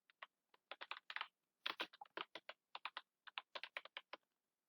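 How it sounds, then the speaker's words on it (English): Light keys tap rapidly on a computer keyboard as a command is entered at a terminal, giving an uneven run of crisp clicks in small bursts, close and quiet with no other sound. "Now you just need to type Jupyter notebook."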